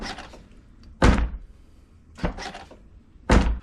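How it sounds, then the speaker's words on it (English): Door lock actuators on a C6 Corvette fire as the car is locked, giving three sharp mechanical thunks spaced about a second apart over a quiet background. "You guys can hear the relays clicking inside."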